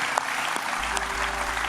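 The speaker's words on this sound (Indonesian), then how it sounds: "Tepuk tangan buat Pak Suhardin." Studio audience applause, a steady and moderately loud wash of clapping that continues without a break.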